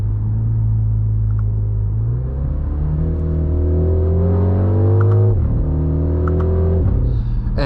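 Speaker-enhanced engine note of a MINI Countryman John Cooper Works, heard from the cabin as a steady rumble that climbs in pitch, dips at shifts and carries a few faint artificial pops, with no voices.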